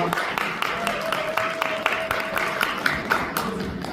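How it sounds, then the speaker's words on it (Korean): Guests at a wedding ceremony clap in a steady rhythmic beat, a moderately loud run of regular claps with a faint sustained tone running beneath. "큰 박수 부탁드립니다."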